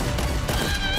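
A brief burst of gunfire from a shootout between two groups in a Filipino TV drama, a rapid, loud crackle of overlapping shots lasting about a second.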